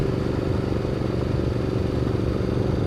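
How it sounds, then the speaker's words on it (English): A Ducati Multistrada 1200 motorcycle ridden off-road on rough roads, a loud, close, continuous engine drone with rumbling and clattering over the whole stretch. "as I'm taking the Ducati down some of these roads"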